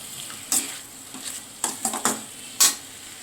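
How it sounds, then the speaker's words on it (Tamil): Boiled vegetables and onion being sautéed in a pan, heard as a few short bursts of stirring and sizzling scrapes spaced across a quiet background, with no talking. "வேக வச்ச காய்கறியை எடுத்துகிட்டு லைட்டாக அந்த வெங்காயத்தை கூட வதக்கிடலாம்."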